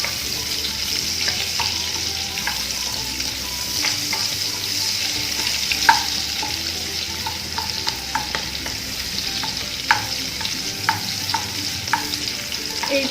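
Chopped onion frying in a pan with cooked rice, giving a close, continuous sizzle broken by frequent scraping and stirring clicks from a spoon.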